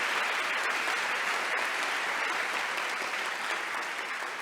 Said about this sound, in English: So please, a first round of applause to these laureates.